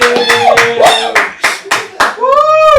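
A handful of sharp, close hand claps land in an uneven rhythm, about seven in under three seconds, with a voice talking and a few tonal, whistle-like sounds mixed in between them.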